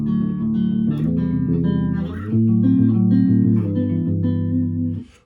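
Guitar strumming the chorus of a song, clean sustained chords changing every second or so, close and fairly loud with no voice over it.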